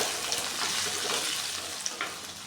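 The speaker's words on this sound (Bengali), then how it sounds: "ডুমো করে কেটে রাখা আলুগুলো দিয়ে দিচ্ছি।" Diced potatoes hit hot oil in a pan for Bengali aloo posto, giving a steady close sizzle and frying hiss with faint stirring scrapes throughout.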